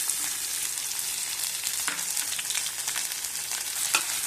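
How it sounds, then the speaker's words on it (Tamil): About twenty small chopped shallots sautéing in oil with cumin seeds for a chicken stew, a continuous close crackling sizzle with occasional stirring scrapes and no talking. "இது நல்லா கோல்டன் ப்ரௌனாக வதங்கணும்"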